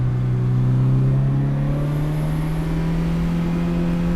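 A Ferrari 328 GTS on a road test drives steadily with a close, continuous engine hum and a slowly rising tone, with no talk over it.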